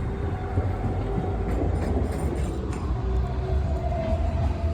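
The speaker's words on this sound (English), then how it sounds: "Tram." A tram rolls past outdoors on a gloomy day, a steady close rumble of wheels on rails with faint squeals and rattles and no talk.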